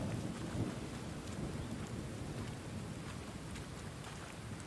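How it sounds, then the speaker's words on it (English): Rain and thunder in the video game Thronebreaker: The Witcher Tales, a steady dense downpour with a low rumbling roll underneath, even and continuous, no voices. "The rain comes down."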